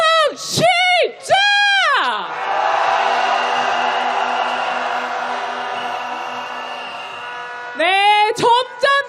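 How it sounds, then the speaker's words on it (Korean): A rally crowd at a candlelight impeachment march roars continuously for about six seconds, a broad loud swell of massed voices after a leader's amplified chant, with chanting voices returning at the end. "탄핵의 함성 시작!"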